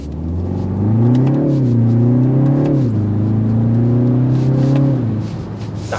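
A 2024 BMW 330 luxury sports sedan accelerates hard from a stop toward 60 mph, its engine note rising steadily through the gears with brief dips at shifts, loud and close, with no talk over it.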